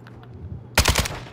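Bullets whizzing and cracking past during a Call of Duty DMZ firefight, a quick cluster of sharp, loud snaps arriving together after a quiet moment.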